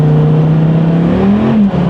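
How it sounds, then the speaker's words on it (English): A Dodge Viper's V10 engine revs while driving, a smooth, loud, close drone that holds steady and then climbs in pitch before a brief dip near the end. "That V10 is such a smooth engine"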